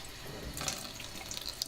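Water trickles and splashes onto the soil of a small potted succulent with a drainage hole. The quiet pour runs steadily indoors, with faint droplet spatters near the end.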